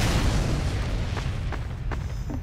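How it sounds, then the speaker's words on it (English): Fireworks burst in the video game Team Fortress 2, a dense rumbling boom filling the whole stretch, with a few sharp crackles and pops on top. "Yep, fireworks."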